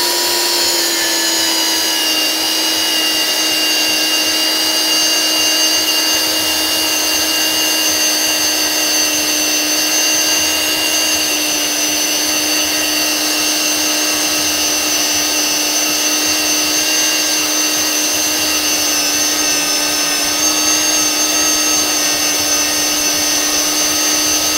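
A portable band saw cuts through the bottom of a steel fire extinguisher, giving a loud, steady whine and grind that continues without a break for the whole stretch, with no talking.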